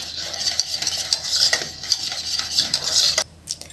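A spoon scrapes and stirs continuously through thickened cake cream in a pot, close and rhythmic, with quick metallic scrapes that stop abruptly near the end.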